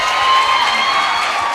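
Audience at a college freshers day celebration in Tenali breaks into steady, dense applause with some cheering, loud and close for a short burst.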